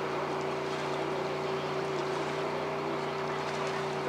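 A racing hydroplane engine drones in a steady, loud roar with a constant pitch and no break, heard at a race meeting on a lake.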